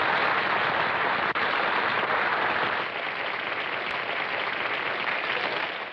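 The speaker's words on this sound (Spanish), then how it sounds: "Ahí están los aplausos." Applause at an event in Argentina, a broad steady roar of many hands clapping that holds evenly for several seconds before fading slightly.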